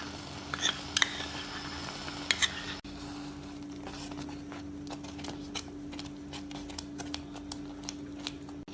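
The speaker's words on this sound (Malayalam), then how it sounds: "ഇനി ഇതിലേക്ക് രണ്ട് ടേബിൾ സ്പൂൺ കണ്ടൻസ് മിൽക്ക് ചേർത്ത് ഇളക്കി മിക്സ് ചെയ്യാം" A spoon clinks sharply against a pan a few times, then settles into steady scraping and stirring as condensed milk is mixed into a thick mango vermicelli dessert, close and moderately loud.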